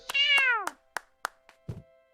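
A cat gives one clear, drawn-out meow, followed by a few short knocks and a soft thud.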